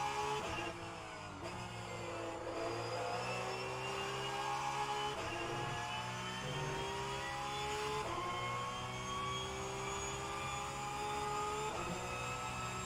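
Porsche Cup race car engine at Nürburgring in a racing game, loud and close, revving up through the gears with a rising whine and brief dips at each shift, repeated several times.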